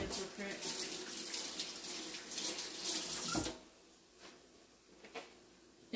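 Tap water runs steadily into a kitchen sink while hands are washed, a broad hiss for about three and a half seconds before the flow cuts off, leaving quiet room tone with a couple of faint knocks.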